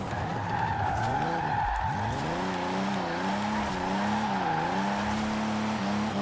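Toyota 2000GT drifting in Forza Horizon 4, a steady engine drone with a wavering tire squeal that rises and falls throughout, loud and continuous with no talking.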